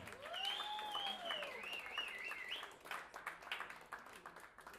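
Concert audience applauding after a singer is introduced, a steady wash of clapping with a pitched musical tone gliding over it at the start, then fading into looser scattered claps.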